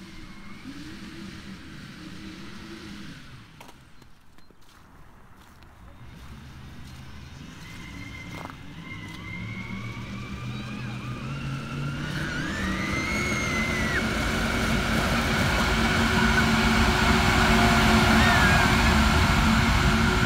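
Engine of a DIY inflatable Sherp-style vehicle on its first outdoor test drive, circling in both directions; a steady motor drone grows gradually louder and nearer across the clip, with pitch shifts as it turns.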